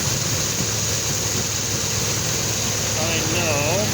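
The engine of a 1988 GMC Jimmy idles at a steady, close, continuous drone, and a faint whining tone rises briefly near the end.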